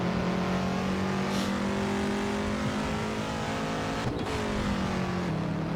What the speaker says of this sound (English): Back on the power for the back straightaway.